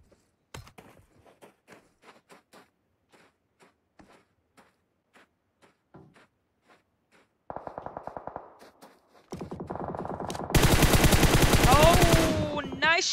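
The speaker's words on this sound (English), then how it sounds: "Nice headshot from the west coast." Gunfire in a PUBG Mobile tournament match: scattered single shots early on, then rapid bursts that swell into loud, sustained automatic fire toward the end.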